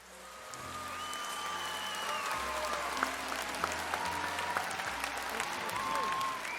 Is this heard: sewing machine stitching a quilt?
no